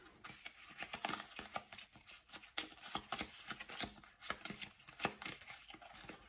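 A deck of cards is shuffled close up in quick, irregular bursts of crisp riffling and slapping, repeated over several seconds with no talking.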